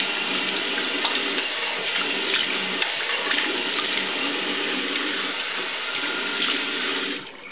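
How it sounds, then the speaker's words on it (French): Icy cold water runs from a tap in a steady, close, unbroken stream for about seven seconds, then cuts off near the end. No one speaks. "Un peu d'eau froide, bien glacée, devrait faire l'affaire."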